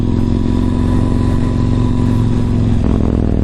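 Yamaha MT-01 motorcycle engine on a commute, a loud, close, steady low throb of its big twin with a rhythmic pulsing beat, shifting slightly near the end.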